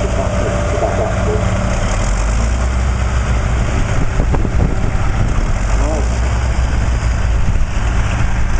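A powerful blue tractor engine runs with a loud, steady low rumble that carries on without a break. Muffled voices sit under the drone.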